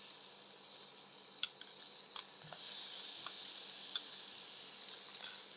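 Prawns frying in a pan of hot oil give a steady, soft sizzle, with a few faint ticks and taps of stirring now and then.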